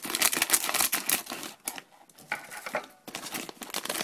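Plastic blind bag being snipped open with scissors, a close burst of crinkling and rustling plastic with sharp snips and handling noises, pausing briefly in the middle before more crinkling.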